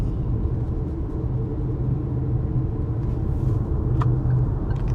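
Electric seven-seat MPV pulling away hard in sport mode, a steady low road rumble and faint drivetrain whine building inside the cabin, with no voices.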